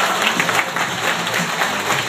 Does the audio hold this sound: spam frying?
no